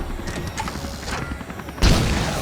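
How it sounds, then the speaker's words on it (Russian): A rapid burst of sharp gunshot-like cracks, followed by a louder boom, with a busy electronic game-style background, from the video game LEGO Marvel Super Heroes. "Берегись, он сейчас откроет огонь."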